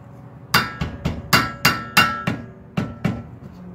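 Repeated metal hammer blows on the seized rear brake of a 1998 Nissan Pulsar SSS, about eight sharp close-up strikes at an irregular, roughly steady pace, each ringing briefly before the next.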